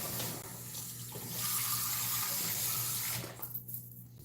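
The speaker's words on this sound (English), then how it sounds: "Let me wash this real quick." Tap water runs steadily into a sink while a cup is washed, a close, continuous splashing hiss that shifts slightly as the cup moves and then cuts off near the end.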